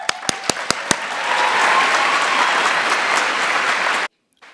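Applause from a commencement crowd honoring a graduating class, opening with several sharp separate claps before swelling into a sustained, dense ovation that cuts off abruptly near the end.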